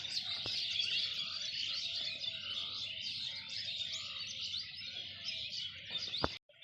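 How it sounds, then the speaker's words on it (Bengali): Birds chirping and calling near a small wetland on a cold, quiet morning walk, a continuous bright chatter of many birds at moderate distance with a soft hum of insects and frogs beneath. "ওই যে দেখুন পাখিগুলো অল্প জুম করে দেখায় আপনাদের, কি সুন্দর করে চেঁচামেচি আওয়াজ করছে।"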